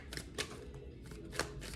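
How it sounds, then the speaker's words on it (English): A deck of tarot cards is shuffled close up, with soft rhythmic riffling bursts repeating at a quiet level. "I already shuffled it once. This is the second time, and I'm gonna do it again."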